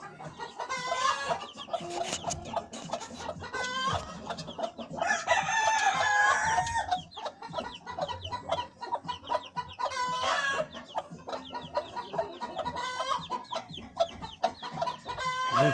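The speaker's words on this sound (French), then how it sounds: "Goliath, c'est ma Pékin frisée" Pekin frizzle hens and other chickens cluck and crow close by, a busy, overlapping stream of calls with loud squawking bursts throughout, without talk.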